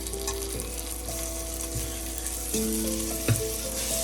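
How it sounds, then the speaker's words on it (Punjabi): Onion and ginger frying in a pan for a Punjabi potato, carrot and pea dish, giving a steady, moderate sizzle with a light scrape near the end and no voice. "ਪਿਆਜ਼ ਸਾਡਾ ਭੁੱਜ ਗਿਆ ਜੀ ਹੁਣ ਅਸੀਂ ਇਹਦੇ ਵਿੱਚ ਅਦਰਕ ਪਾਵਾਂਗੇ"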